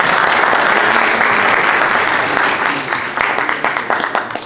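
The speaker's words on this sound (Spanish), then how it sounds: "les pido un aplauso y les demos una bienvenida" Loud applause from an audience at a Spanish-language seminar on labour reform welcomes a speaker, dense and close at first, then thinning into scattered individual claps as it fades.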